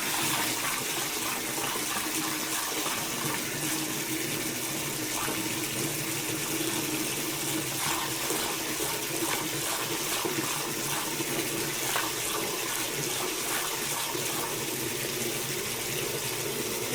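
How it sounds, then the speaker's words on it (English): Water pours steadily into a container, filling it toward the 5-gallon line while a hydroponic Tower Garden nutrient solution is mixed. A continuous, close, even rushing splash with no pauses runs throughout. "I'm going to fill it all the way up to the 5-gallon line."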